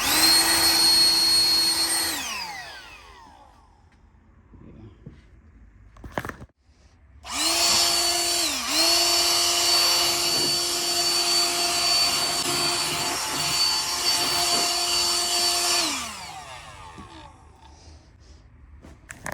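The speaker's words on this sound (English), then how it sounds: "a little blower like this is almost essential in a workshop, is because it can quickly remove all the dust from your tools, just like that" Ozito PXC 18V cordless high-volume inflator blowing air in a workshop: a loud, steady motor whine and rushing air that runs, winds down, then starts again for a longer burst before spinning down, with no talk.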